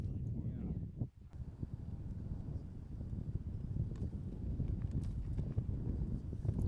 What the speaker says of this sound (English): especially with the wind whipping like it is